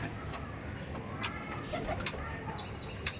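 Madrasi pigeons coo softly in a low, throaty murmur, with a few sharp clicks or taps in the background, heard fairly close and quiet.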